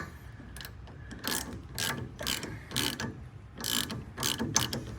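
A ratchet wrench clicks in quick bursts while tightening a nut on the rear suspension of a 1956 Ford Thunderbird, several short rattling strokes up close with brief pauses between them and no talk.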